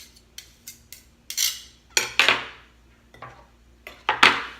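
A potato masher pressing butter into an apple crisp topping in a bowl, giving a series of close, irregular metallic clinks and soft thuds against the dish, with a few heavier clatters spaced across the stretch.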